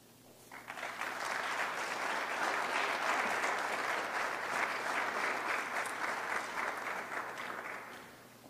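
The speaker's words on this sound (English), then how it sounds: "can we get another round of applause for these candidates?" Audience applause for candidates at an oratorical contest final, a sustained round of clapping that swells in, holds for about seven seconds, then fades, heard from within the room.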